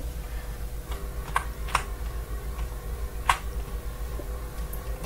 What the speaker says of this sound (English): Please enjoy the keyboard ASMR with the EarthBound noises.